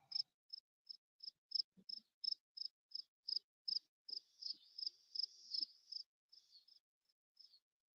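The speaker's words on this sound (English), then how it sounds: "crickets in your house" Crickets chirp indoors in a house, a steady run of short, evenly spaced pulses that blur into a continuous trill before thinning out near the end, faint and close, with no talking.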